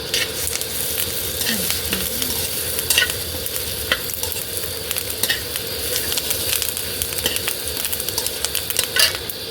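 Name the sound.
curry leaves, garlic and tamarind frying for gongura pickle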